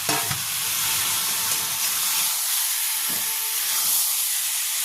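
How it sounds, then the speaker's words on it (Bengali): Spiced egg and cauliflower curry sizzles and hisses loudly in a pan over medium flame, with a steady wash of steam and occasional stirring scrapes, no one talking. "এবার এটা দেওয়ার পরে আমি 2-3 মিনিট নাড়াচাড়া দিয়ে আমি এর মধ্যে এবার জল দিয়ে দেবো।"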